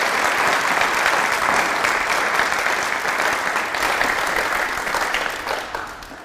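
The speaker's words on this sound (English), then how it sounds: "Please put your hands together for a round of applause." A crowd at a National Reconciliation Week event applauds its speakers, a thick, even wash of clapping that holds steady and loud before tapering slightly at the end.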